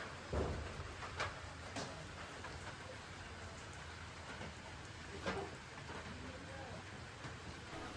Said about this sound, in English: we're having some real beautiful rain